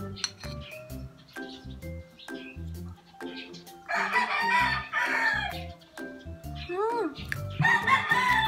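Chickens and a rooster sound off in a home setting, with clucks scattered through and a loud crow rising in the second half, partly mixed with nearby household noise.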